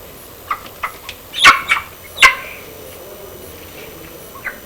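A hen gives a handful of sharp, close squawks and clucks, bunched in the middle, over a quiet background.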